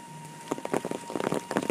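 Light rain pattering steadily in a rural Indonesian village, a soft continuous hiss with scattered close drops, heard alone without talk.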